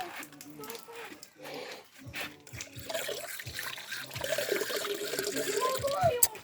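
Water running from a tap at a beach, a steady trickle and splash that builds over the seconds, with people talking and calling out over it.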